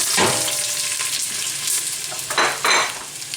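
Onions hitting about two ounces of hot olive oil in a pan sizzle loudly, with bright crackling bursts and stirring scrapes across a few seconds, no talk.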